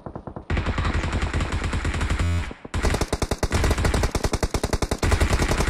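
Loud gunfire in rapid, sharp bursts, with a short pause midway before another fast string of shots resumes and carries on to the end.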